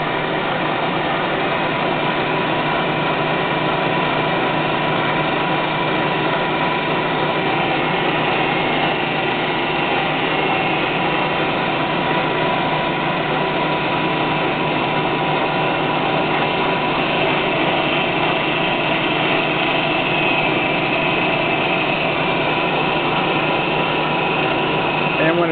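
ENCO 9" x 49" knee mill running with its power down feed engaged, a steady, continuous machine whir with a constant mechanical hum and no break across the whole stretch.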